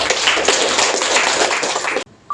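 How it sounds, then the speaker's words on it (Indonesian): A classroom audience claps for the first student group after its history presentation. The quick, dense applause keeps going for about two seconds and then stops suddenly. "Kita beri aplaus buat kelompok 1"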